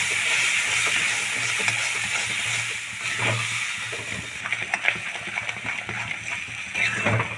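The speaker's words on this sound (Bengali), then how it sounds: "2 চামচের মতো দিয়ে আমি খুব ভালো করে মশলাটা কষিয়ে নেব" Turmeric and spice mix for khichuri fries in a pan, producing a constant, fairly loud hissing sizzle with occasional stirring scrapes and a low background hum, no voices present.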